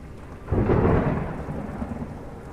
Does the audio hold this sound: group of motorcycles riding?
no